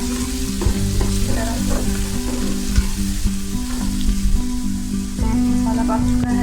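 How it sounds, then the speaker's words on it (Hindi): Lobia beans and masala sizzle steadily in a hot pan, a continuous loud frying crackle with occasional stirring scrapes and no talk. "मसाला डाल के हम इसको 1 मिनट के लिए पका लेंगे।"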